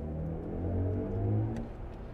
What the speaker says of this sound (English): A kind of electronic engine noise.